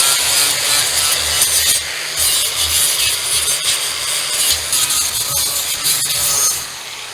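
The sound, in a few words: sanding metal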